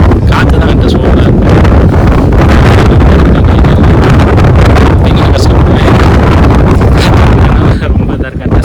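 Strong wind on the Kondarangi hilltop buffets the microphone in a loud, continuous roaring gust that barely lets up, heard alone without speech.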